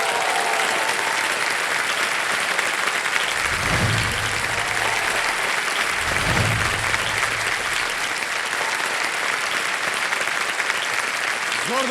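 Studio audience applause welcoming actress Shefali Shah on the KBC stage: a steady, dense roar of clapping across the whole stretch, with a host's voice briefly rising over it twice.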